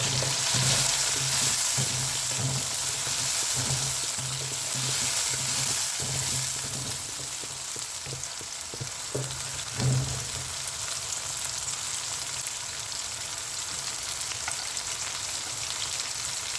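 Parrot fish tail pieces in masala frying in oil in a pan, with curry leaves, give a steady close sizzle under soft spoon scrapes, with one brief louder clatter near the end.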